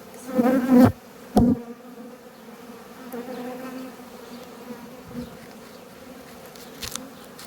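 Honey bees buzz steadily in an open hive during a Varroa mite treatment, a dense close drone with a few louder passes as individual bees fly near.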